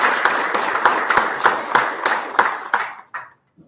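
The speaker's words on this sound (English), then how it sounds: "So big round of applause for Arvind sir." An audience claps for a speaker at a chartered accountants' day event: crisp, fairly close applause that gradually thins and fades out within a few seconds.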